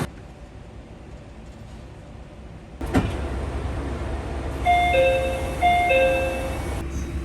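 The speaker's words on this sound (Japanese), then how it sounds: "先に JR 東海社による高山行きの列車が発車していきます" A JR Central KiHa 25 diesel train pulls out of a mountain station bound for Takayama. A low engine rumble builds after a sudden thud, and a series of tonal chime-like or whistle tones sounds partway through at a moderate distance.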